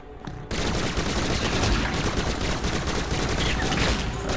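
Rapid, dense gunfire from the video game Bombshell, loud continuous bursts that start abruptly and keep going for about four seconds with no pauses.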